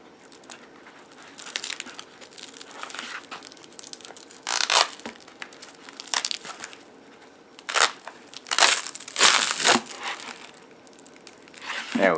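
Cellophane wrapping and styrofoam packaging on a Japanese Club Nintendo Super Mario 3D World soundtrack package are torn and crinkled up close in irregular bursts, sharp crackling crunches separated by brief quieter pauses.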